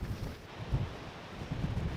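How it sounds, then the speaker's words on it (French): Wind blowing by the Mediterranean sea near a coastal monastery, a steady low rumble with gusty swells and buffeting against the microphone, no voices. "Regarde le vent dans la mer."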